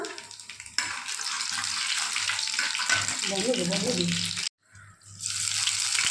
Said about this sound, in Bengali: তেল গরম হয়ে গেছে, এবারে কালো জিরে দিয়ে দেবো পরিমাণ মতন।